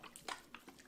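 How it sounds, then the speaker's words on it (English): Chicken broth poured over stuffing in a home kitchen during holiday cooking, heard as a few faint, brief liquid splashes and drips in an otherwise quiet room. "I'm gonna start by adding our chicken broth"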